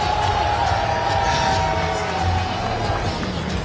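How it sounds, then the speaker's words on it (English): A Nashville arena crowd at a boxing event cheers a fighter's entrance, a steady, sustained roar of many voices heard from within the venue. "Gets a big welcome here from the Nashville crowd"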